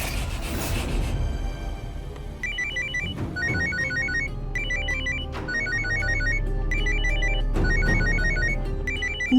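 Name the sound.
phone ringing with an incoming call from mother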